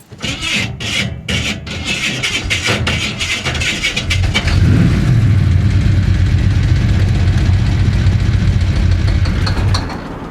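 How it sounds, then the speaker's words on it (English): The engine of a 1966 Chevy Impala cranks with rough, rasping bursts during a highway drive, then rises into a loud, steady droning hum that fills the cabin. There is no talking. "That was engine noise."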